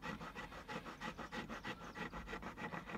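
A stone knife is worked back and forth to cut a blade groove, making a quiet, rhythmic rasping scrape of roughly three strokes a second, close and alone.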